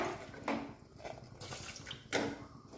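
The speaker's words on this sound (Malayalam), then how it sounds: "കഷ്ണം മുങ്ങാൻ ഭാഗത്തിൽ വെള്ളം ഒഴിച്ച് കൊടുക്കുക" Water splashes and pours into a cooking pot in short bursts, a couple of louder gushes close by with quieter trickling between.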